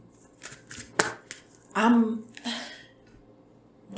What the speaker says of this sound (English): Let's pull from some oracle cards